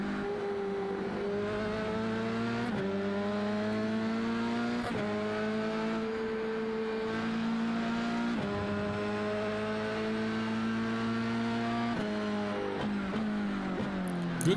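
Close racing in an F1 legends video game at Road America: several high-pitched engines scream together at steady volume, and their tones rise in unison and then drop sharply with each gear change, repeating through the run.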